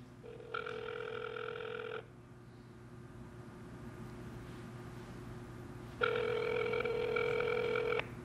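Telephone ringback while calling a pizza restaurant on Sunset Boulevard: two long electronic ring tones separated by about four seconds of quiet line hiss, heard close and clear with no talking.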